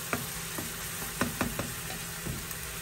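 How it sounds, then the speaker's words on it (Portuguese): Onion frying in a pan as the base for a homemade chicken soup, a steady soft sizzle with a few sharp clinks and stirs scattered over it, close by with no talking. "Agora a gente deixa fritar."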